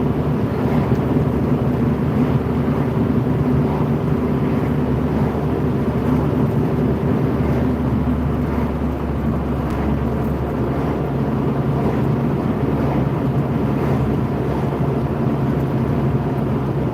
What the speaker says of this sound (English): Pushing against the wind.